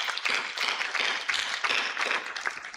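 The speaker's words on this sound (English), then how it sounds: "Let's all give them a big round of applause" Applause at a Geo-AI disaster resilience symposium honours a team, a moderate group clapping in an even rhythm for about three seconds without any talk over it.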